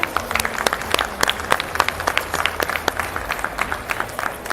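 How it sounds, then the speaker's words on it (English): At a pets and cannabis panel expo, an audience gives the panelists a round of applause, a lively spread of many hands clapping with sharp, irregular claps standing out nearby. "Big round of applause for our panelists, please."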